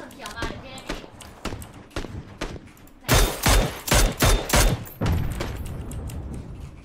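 Gunfire from a shooting game cracks out in sharp, repeated shots, first spaced single rounds, then a louder rapid cluster of heavy bursts, with people talking over it.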